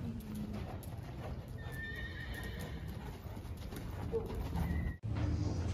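A young horse loping in an arena, its hooves beating a steady, close clip-clop rhythm with a brief whinny, while birds coo faintly in the background.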